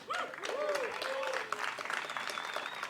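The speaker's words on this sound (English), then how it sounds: "while you're clapping, please make some noise for the City JS team" An audience at a CityJS tech conference applauding, a dense steady patter of clapping mixed with a few cheers, heard from near the stage as a voice speaks over it.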